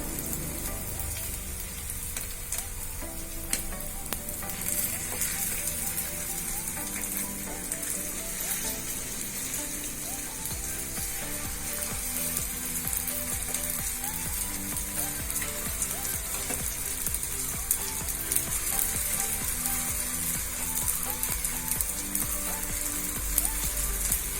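Pieces of ripe jackfruit fry in a pan after being turned over, giving a dense, continuous crackling sizzle. The sound stays at a fairly even level, close by and uninterrupted.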